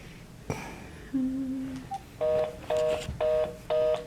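A telephone number is dialed over speakerphone: a few separate tones, then five evenly spaced DTMF beeps in a steady rhythm, clear and fairly loud over a quiet room.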